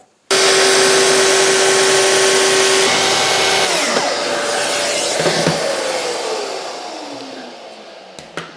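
A guide-rail circular saw makes a very small trim off a wood edge for a chair: a loud, steady whining roar for several seconds that slowly winds down to a fading spin.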